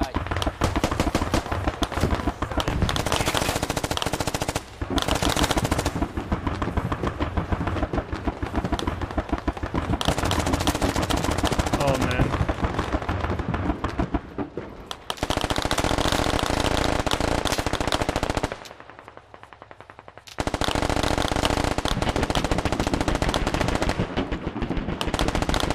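Heavy gunfire in the military video game SQUAD, with dense sustained bursts of automatic fire and booming shots that stop briefly before resuming loudly, and voices faintly under the shooting.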